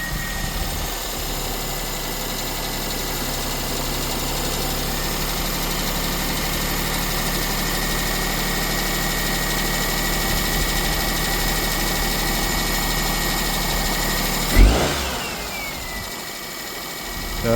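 A Vauxhall Astra engine idles steadily after its belt has been removed, a continuous mid-pitched hum with a faint whine, then a sudden thump and a brief drop near the end; no one speaks.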